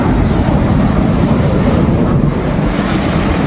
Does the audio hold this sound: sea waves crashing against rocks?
yes